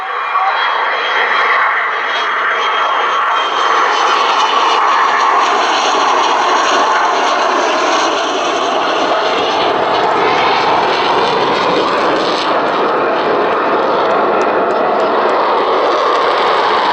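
The Avro Vulcan XH558 bomber flies past at an RAF Cosford air show with its undercarriage retracting, producing a loud, sustained roaring jet-engine rumble that holds steady across the pass.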